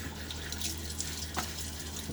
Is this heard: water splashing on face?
yes